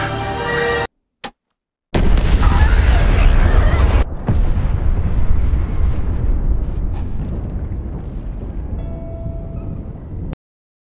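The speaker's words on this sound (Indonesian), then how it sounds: "Ledakan pun terjadi" A film explosion bursts in loud and sudden after brief silences, then rolls on as a heavy, broad rumble that slowly fades over several seconds before cutting to silence.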